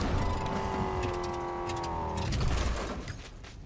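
A car engine in a Fortnite Chapter 5 match roars and whines steadily at close range, with sharp crackling bursts over it, then the sound eases off near the end.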